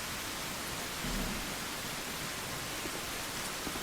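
Steady rain hisses evenly throughout a Dark Souls 2 video game scene, a dense wash of noise with no breaks.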